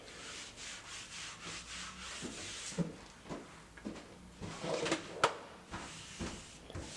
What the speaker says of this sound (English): Just give them a good scrub and make sure they're kind of restored to that black look.